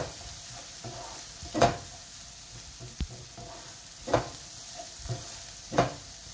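Paneer bhurji with garam masala gets stirred in a pan, producing a soft background sizzle broken by a few sharp scraping strokes of the spoon, spaced a second or two apart.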